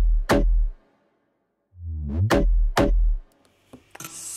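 A dancehall beat with deep bass under layered drum hits, punchy low thumps and a bass swoop landing together, then a brief gap before a shaker-like texture starts.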